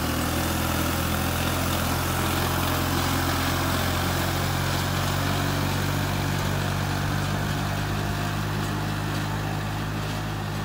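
A New Holland 3630 tractor works a 15-tine tiller, its engine holding a loud, steady drone with a deep rumble. The sound is close and unbroken throughout, with no voices.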